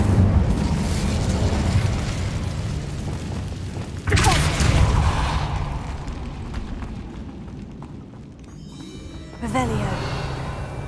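Incendio fire spell bursts in Hogwarts Legacy inside a catacomb, a sudden whooshing flare rising over a constant roaring rumble, with another crackling burst near the end, loud and close.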